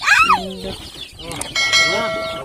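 Small chicks and hens on a farm give high, bright peeps and short clucks in quick bursts, loud and close, with a person's voice calling to them in between.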